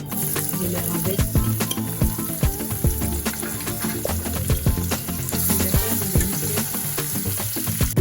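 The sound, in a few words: onions, garlic and tomato frying in a pot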